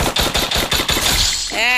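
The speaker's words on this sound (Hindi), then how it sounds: "मेरे को और फायरिंग की आवाज़ आ रही है" Rapid automatic gunfire in a shooting video game, a fast close burst of about seven loud shots followed by a ringing, fading tail.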